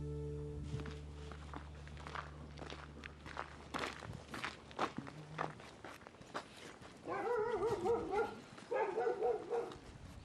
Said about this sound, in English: After fishing, I decide to walk around the village one more time.